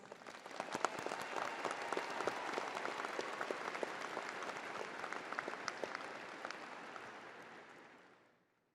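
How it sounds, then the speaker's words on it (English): A commencement ceremony crowd applauds steadily for several seconds, a dense wash of clapping that fades out at the end. "Let's thank them with a round of applause."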